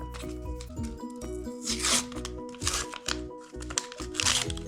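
Plastic crinkles and rustles close up in a few short bursts over a steady tonal background.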